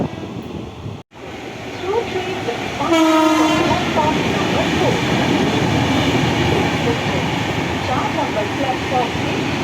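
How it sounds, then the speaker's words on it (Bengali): The Patna–Howrah Jan Shatabdi Express runs through Dankuni station on the down line, sounding a short horn blast over a steady rumble and rattle of wagons, with a voice faintly audible. "এটা হচ্ছে ডাউনে পাটনা হাওড়া জনশতাব্দী এক্সপ্রেস।"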